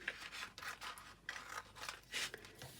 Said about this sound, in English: Let me get some longer scissors, that's better. So again we're just cutting up one sides